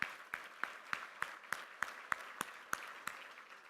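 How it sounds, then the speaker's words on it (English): Sparse, evenly spaced claps ring out at a charity gala in a large hall, each one sharp and distinct over a quiet background, fairly faint and unhurried rather than a full ovation. "So please give them a round of applause."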